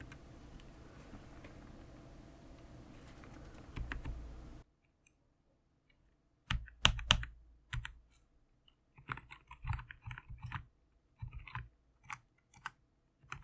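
Typing on an upgraded computer keyboard fitted to cut key noise: after a low background stretch, bursts of fairly quiet, close key clicks and taps arrive in irregular clusters with short pauses between them.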